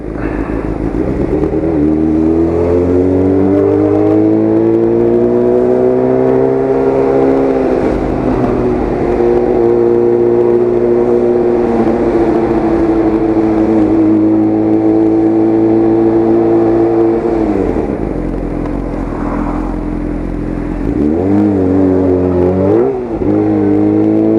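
A car engine held at high revs under heavy throttle, droning loudly and steadily with pitch rising and falling, then dipping and climbing again near the end as the clutch is worked.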